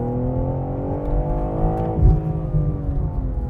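A four-wheel drive car accelerates hard through a corner, its engine note climbing in a rising, strained drone with a brief surge midway, loud and close with no talk.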